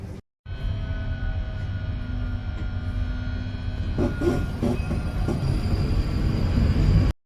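A train bound for Stratford, next stop Poplar, runs with a steady, loud rumble and hiss, a few rhythmic clacks partway through, cutting off abruptly at the end.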